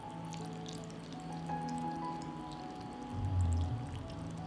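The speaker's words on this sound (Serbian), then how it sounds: "Poređala sam sarmu i sada ću sipati vodu." Water is poured over layered sarma in a cooking pot, a faint, steady trickle that swells into a louder gush near the end, with no one talking.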